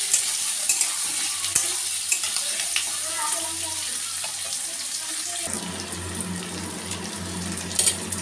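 Potatoes and onions fry in a pan with a close, steady sizzle, broken by repeated scraping stirs and clinks of the utensil, the texture shifting partway through; no speech.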